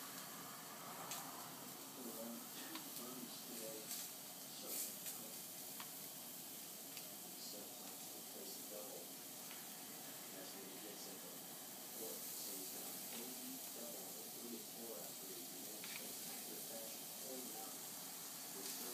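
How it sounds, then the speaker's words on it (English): Dry-rubbed scallops sear face down in a hot pan, giving a steady, close sizzling hiss that runs unbroken throughout, with a person talking over it. "take the scallops, put them face down, the dry rub face down"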